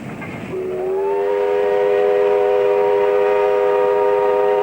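A steam locomotive on a restored country line near Coffs Harbour, Australia, gives a loud, sustained chord-like whistle that swells in after a short rumble and holds steady to the end.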